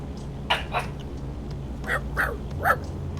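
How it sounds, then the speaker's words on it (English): Several dog barks in short bursts, a pair close together then a few more spaced out, loud and near over steady low background hum, no talking. "Apologies for the dogs."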